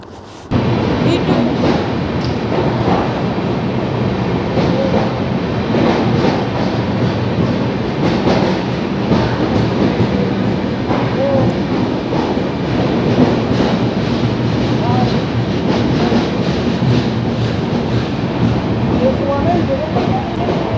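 A long-distance passenger train travels from Alipurduar toward Jharkhand, heard from inside a carriage as a loud, steady rumble with rhythmic wheel clatter, with faint voices murmuring underneath.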